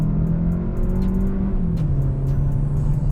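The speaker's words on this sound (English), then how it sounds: "this thing definitely gets up and goes when you step on it" A 2021 Kia K5 with a 1.6-liter four-cylinder engine accelerating hard, heard from inside as a steady droning engine note that climbs and then drops at a gear change, with faint ticking clicks above it.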